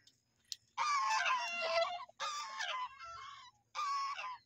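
Hens in a village coop clucking and squawking loudly in three long agitated bursts, with a rooster's crowing among them, close to the listener over a quiet rural background; no speech.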